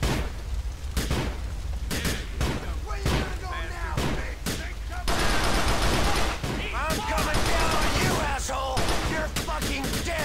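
Bursts of rapid gunfire in Grand Theft Auto IV crackle and pop in quick succession, some single shots and some sustained volleys, with a voice talking underneath.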